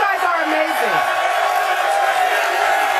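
A studio audience cheers and whoops in a dense, continuous roar at steady volume that never breaks off.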